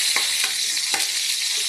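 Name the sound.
sautéing ingredients for mung bean stew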